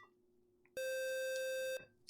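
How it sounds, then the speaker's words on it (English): A single sustained electronic beep, clear and steady for about a second, sounds alone in a quiet basement room, loud against faint background hiss. "I heard beeping."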